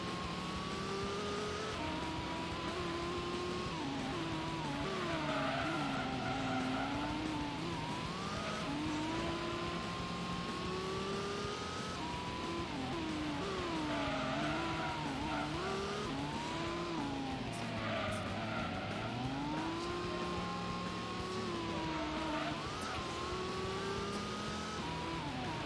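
Racing car engine in the Gran Turismo game, revving and shifting continuously with rising and falling pitch and brief tire squeal, loud and steady throughout with no talk.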